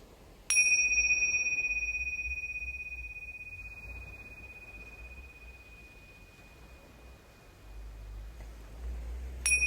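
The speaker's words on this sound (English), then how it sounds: "returning home to the sound of the bell." A meditation bell is struck once and rings out in a long, clear, sustained tone that slowly fades over several seconds, with a faint second strike at the very end over quiet background hum.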